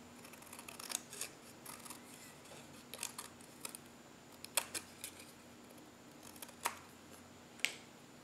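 Scissors trim a punched paper word for a craft page, a series of soft, close, crisp snips at irregular intervals over a quiet room.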